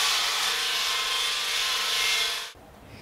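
A circular saw for cutting bricks on a construction site runs with a loud, steady, high-pitched whine, then stops abruptly near the end and leaves a quiet background.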